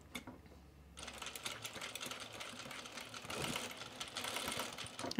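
Sewing machine stitching a jeans waistband, a quick steady mechanical whir and clatter that starts after a quiet second and runs on close by.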